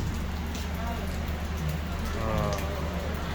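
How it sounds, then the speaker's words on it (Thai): Rain falls steadily in Vang Vieng, a dense, continuous hiss of drops hitting surfaces close by, with faint voices mixed in beneath the downpour. "วังเวียงกับฝนตกครับ ฝนตก"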